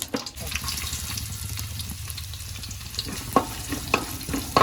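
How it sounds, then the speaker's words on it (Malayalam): Cinnamon, cardamom and cloves fry in a pan of hot ghee for a Kerala-style chicken biryani, giving a soft, continuous sizzle. A few sharper clinks of a utensil come near the end. "അത് നമുക്ക് നെയ്യിലേക്ക്, നെയ്യ് ഇങ്ങനെ ചൂടായി നിറഞ്ഞ പൈലേക്ക് ഇട്ട് കൊടുക്കുന്നുണ്ട് കേട്ടോ."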